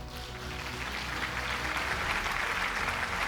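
Continuous applause from a large audience at a motivational seminar, a broad, even roar of clapping hands that swells slightly and holds steady to the end.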